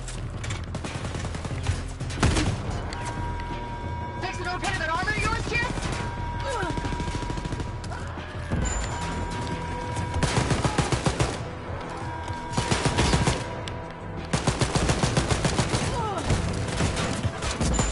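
Enemy gunfire rattles through a Wolfenstein Youngblood firefight, dense repeated bursts and volleys that keep coming loud and near over the game's background din.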